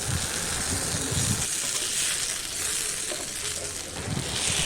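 Steady sizzling and scraping as gooseberry paste is stirred in a hot pan, a continuous frying hiss with rhythmic spoon strokes against the pan, close up and without talk.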